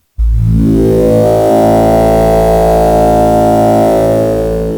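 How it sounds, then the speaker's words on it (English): Kodamo EssenceFM synthesizer playing sine waves with waveform interpolation disabled, a loud sustained tonal chord with a gritty, buzzing edge on top, starting abruptly and holding steady for several seconds alone. "That's giving it some of that buzz at the top of the sine waves"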